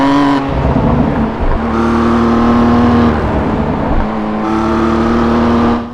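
A race car engine in the iRacing sim roars loud and close, droning steadily, dipping as gears shift and climbing again with revving pitch, alone without talk.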